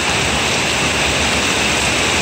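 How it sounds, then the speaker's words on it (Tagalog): Heavy rain pours down in Baguio City, a dense, steady hiss of water close by with no pauses. "Aba, napakalakas ng ulan ngayon."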